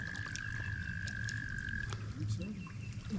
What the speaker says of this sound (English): It's a leopard frog.